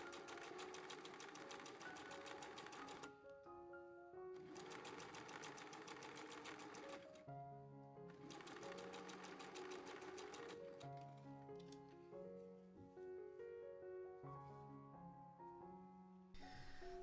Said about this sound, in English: now we will stitch this edge right along